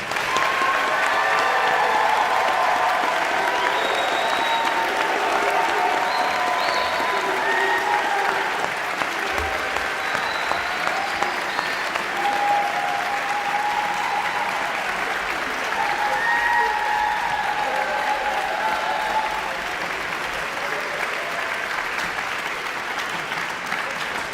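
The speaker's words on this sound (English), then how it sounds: "Let's give these amazing graduates another warm round of applause." A large crowd applauds new bachelor's graduates at the UNT Music commencement in spring 2024, a long, dense, steady wash of clapping that holds at an even loudness for over twenty seconds.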